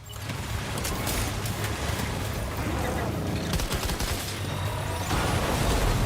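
A machine pistol fires rapid bursts in Death Stranding 2: On the Beach, with crackling shots and impacts spread across several seconds over a loud, busy combat background.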